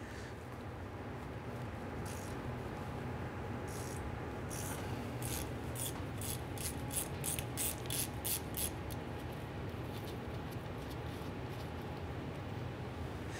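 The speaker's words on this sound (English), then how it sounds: "we're going to go ahead and use our 3/8 ratchet. You want to go ahead and loosen and remove this plug" A 3/8-inch ratchet loosens and removes the differential fill plug on a 1994-2004 Ford Mustang rear axle: a run of quick, close ratcheting clicks over a steady low hum, with no talking.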